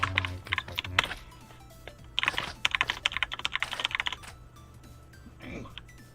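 Computer keyboard typing while coding, with quick irregular bursts of keystrokes close to the mic, fading into quieter room noise toward the end.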